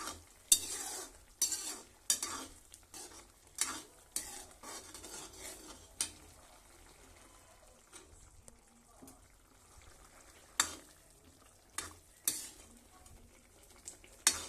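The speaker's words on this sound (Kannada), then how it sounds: "ನೋಡಿ ಕುದೀತಾ ಇದೆ." A spoon stirs and scrapes green rice paste simmering in a pot, with soft bubbling and sizzle between repeated clanking strokes against the metal, close and without talk.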